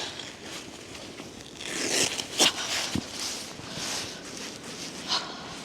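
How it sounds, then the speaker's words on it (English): A rider straps into snowboard bindings on a snowy slope, close-up ratcheting, scraping and rustling clicks in short uneven bursts, with no talking. "Let me strap into the snowboard."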